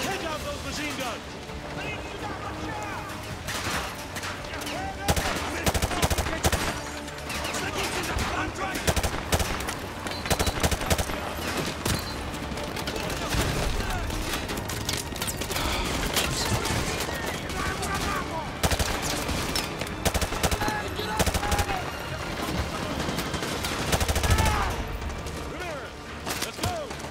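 Sustained machine gun fire in a Call of Duty: Modern Warfare 2 campaign battle, dense overlapping bursts and gunshots rattling steadily for the whole stretch, with a voice talking now and then over the combat.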